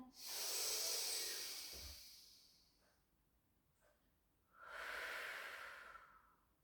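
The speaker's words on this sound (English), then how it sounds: "inhale, let the belly rise. Exhale, centre." Slow, deep breaths during a Pilates back-care flow: a long, loud hissing exhale, a quiet pause, then another full airy breath, close and with no talking over it.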